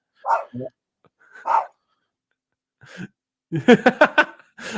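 Dogs bark in several sharp bursts: a couple of single woofs early on, then a quick run of loud, close barks near the end, with no talk over them.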